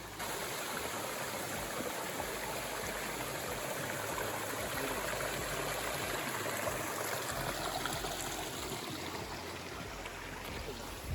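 A Himalayan mountain stream near Taradevi waterfall rushes steadily, a continuous broad wash of flowing water, close and even throughout with no voices.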